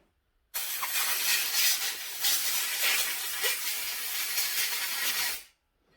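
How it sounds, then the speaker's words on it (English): A steady, loud burst of compressed air blows through the carburetor parts of a Champion generator, a close continuous hiss lasting about five seconds that starts and stops abruptly, with no talking. "Give her some compressed air."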